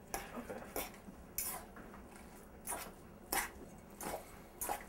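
Cooked wild rice mixed in a bowl, producing quiet, close scrapes and clinks of a utensil in irregular bursts, with no talking.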